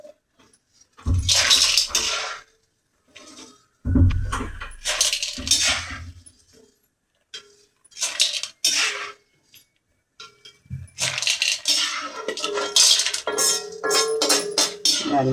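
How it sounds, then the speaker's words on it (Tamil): A spoon scrapes and clinks in a pan while urad dal is stirred and roasted in sesame oil for idli podi, in irregular clattering bursts separated by pauses. "அள்ளிட்டு உளுந்து போட்டு வறுத்துப்போம்"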